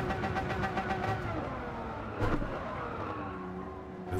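Car tyres skidding under hard braking in the Gran Turismo 7 racing game, a Lamborghini Murciélago LP640 at the Tokyo circuit, with a sustained engine drone and a brief louder scrub midway.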